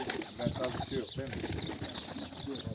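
Pigeons cooing in a loft, low throaty calls repeating over occasional bursts of wing flapping, close by, with people talking alongside.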